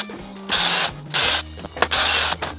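A power drill bores into wood for a van's slide-out drawer in three loud, whining bursts of about half a second each, separated by short pauses with lower motor hum.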